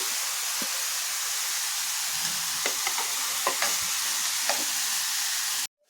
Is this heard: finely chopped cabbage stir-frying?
yes